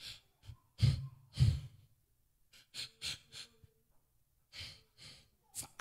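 A voice imitates labored, desperate gasping breaths of a man hanging on a cross, with sharp loud inhalations and rasping exhales in an irregular rhythm, close and alone.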